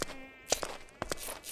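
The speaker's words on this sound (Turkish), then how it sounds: "bu ses neyin ses sinek kimi geliyor" Fly-like insect buzzing in the survival game RLCraft, a thin droning hum broken by a few short louder bursts, close and clear with no talk over it.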